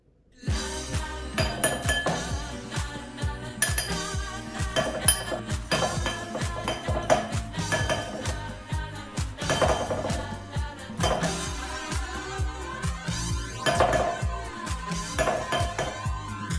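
Scooping the inside out of a baked potato with a kitchen utensil, a busy run of clinks, scrapes and knocks against a dish with steady rhythmic strokes, fairly close and with no talking.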